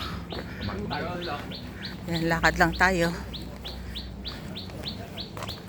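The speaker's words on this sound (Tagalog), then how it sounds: "may ibon, may ibon. Ang mga ibon." Birds chirp steadily in the background, quick repeated tweets throughout, while a person speaks briefly in the middle.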